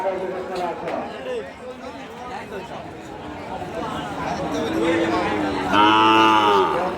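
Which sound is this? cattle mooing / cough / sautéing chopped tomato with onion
cattle mooing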